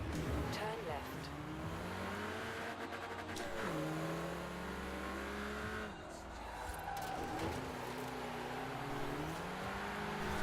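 A hot Ford car races in the Forza Horizon 4 game, its engine rising and falling through gear changes with repeated revving sweeps and tire squeal, while someone talks over it.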